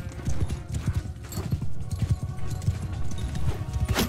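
Hooves of a horse galloping in Mount and Blade 2: Bannerlord, a steady, loud clip-clop rhythm close by with a brief whinny-like sound and light background noise throughout.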